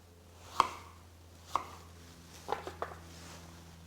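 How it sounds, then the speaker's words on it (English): Knife chopping hulled strawberries in half on a board, giving two separate close taps followed by a quick cluster of three or four cuts, over a quiet kitchen hum with no talk. "these I'm going to chop in half to make our sauce"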